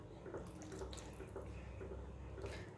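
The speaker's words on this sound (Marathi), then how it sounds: "त्यामध्ये कोमट पाणी घातलेलं आहे। तर ते पाणी सुरुवातीला टाकायचं आहे" Lukewarm water is poured into a steel mixer grinder jar in a home kitchen, a short steady splashing pour close by, with no talking.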